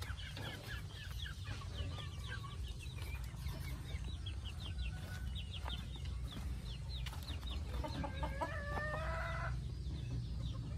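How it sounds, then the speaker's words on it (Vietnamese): Bantam roosters and hens at a chicken farm in Tay Ninh, Vietnam, cluck and chatter continuously, with a rooster crowing loudly near the end over steady outdoor background noise. "Gà nọc."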